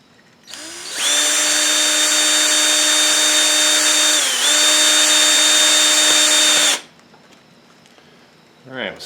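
A power drill drives a screw into an RC car, the ZD Racing DBX 10, in one sustained high whine lasting several seconds with a brief dip midway, then stops. A short clatter follows.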